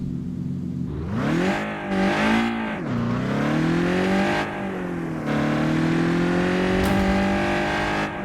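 A video-game car revs and accelerates on a mega ramp, its engine tone climbing and shifting pitch through repeated surges, loud and continuous with no talk.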